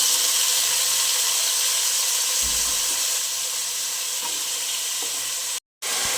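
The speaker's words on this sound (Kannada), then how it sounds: "ಆಯಿಲ್ ಕಾದಿದೆ, ಈಗ ತರಕಾರಿ ಸೇರಿಸ್ಕೊತಾ ಇದ್ದೀನಿ." Vegetables tipped into hot oil for a vegetable sambar hiss and sizzle loudly and steadily, with a brief clatter as they land and a sudden short cut-out near the end.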